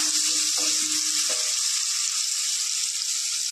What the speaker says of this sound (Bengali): আমি সরিষার তেল দিয়ে রান্না করছি। দিয়ে দেবো পেঁয়াজ কুচি, শুকনো লঙ্কা 3-4টে